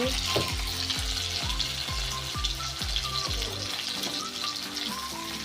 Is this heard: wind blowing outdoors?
no